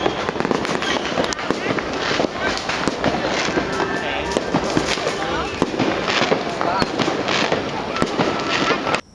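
Fireworks burst across the city of Chiang Mai, Thailand, during a festival, making a dense, constant crackle of pops and booms near and far. Voices talk over the noise.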